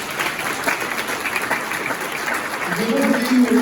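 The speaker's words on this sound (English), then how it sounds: "give them a big round of applause." A seated audience at a talk show taping breaks into loud, close applause, a rough continuous clatter of many hands, with a voice beginning to speak over it near the end.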